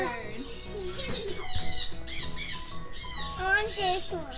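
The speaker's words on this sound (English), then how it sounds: "Oh, listen to that bird." A bird squawks in shrill, rising bursts several times, close by, mixed with people talking over it in a pet play setting.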